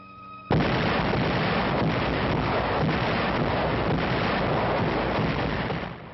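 Allied artillery opening fire at night along a German-held front in Italy, a dense continuous roar of gunfire that starts abruptly after a brief hum and holds loud and sustained to the end.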